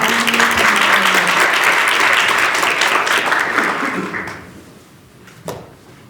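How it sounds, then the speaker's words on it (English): A conference audience applauds its panelists at an education plenary, loud dense clapping that fades out after about four seconds, leaving room noise and a single knock. "We please give them a round of applause to our panelists."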